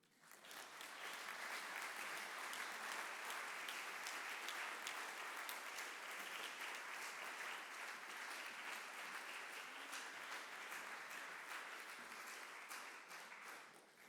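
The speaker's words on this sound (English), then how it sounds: "Let's give another round of applause for all of our Maine Poet Laureates." Sustained audience applause for the Maine poets laureate at a celebration event, a dense, steady wash of many hands clapping that holds evenly for about fourteen seconds before tapering slightly at the end.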